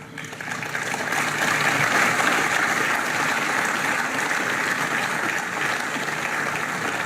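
An outdoor political rally crowd in Celje applauds, steady and loud, as the clapping swells in the first second and then holds as a dense, sustained ovation with no voice on top.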